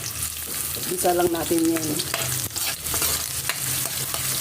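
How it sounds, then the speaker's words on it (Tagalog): Onions dropped into hot cooking oil in a heated pan, frying with a steady sizzle and stirring scrapes, while a person speaks briefly over the cooking. "Tapos next na natin ang ating sibuyas. Kasi mainit na yung ating kawali, ang ating mantika."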